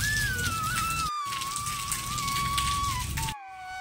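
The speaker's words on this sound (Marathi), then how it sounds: "थोडा थोडा पाऊस येतोय बाहेर" Light rain falling outside, a soft continuous patter accompanied by a steady high whistling tone that drops out briefly near the end.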